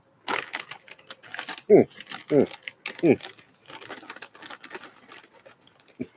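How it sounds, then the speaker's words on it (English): Scattered keyboard typing comes as irregular clicks and taps, with a few heavier keystrokes standing out in an otherwise quiet indoor room. "he was typing"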